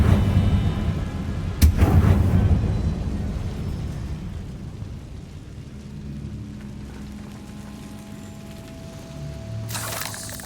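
A Confringo fire spell exploding in Hogwarts Legacy on PS5, a sharp loud blast near the start followed by a rumbling, crackling decay and a fainter burst near the end.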